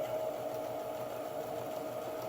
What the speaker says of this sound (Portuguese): Vou mostrar na máquina como é que faz.